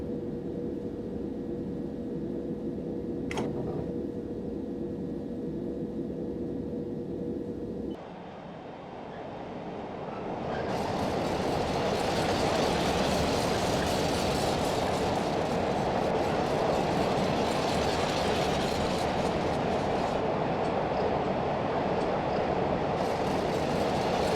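A train runs on the North London Line in Train Simulator 2016, a quieter steady hum with a rising tone giving way to louder, broad rolling rumble and rail noise that stays strong and continuous, with no talk.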